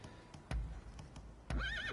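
A horse neighs in the samurai action game Rise of the Ronin: two loud, close bursts about a second apart, the second rising into a long, wavering whinny.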